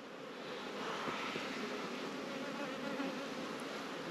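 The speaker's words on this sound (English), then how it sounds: "And the bees are flying." Honey bees buzz around the hives in a nucleus yard, a continuous dense hum of many insects in flight that holds steady and close, with no voices.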